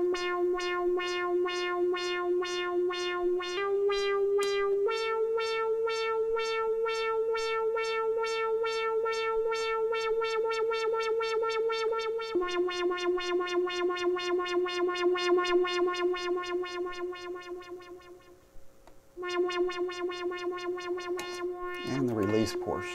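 A modular synthesizer tone with its envelope shaped by a sine-wave LFO, a steady buzzy pitched drone with stepped pitch changes and a swelling, dipping level, ending in a sweeping wobble.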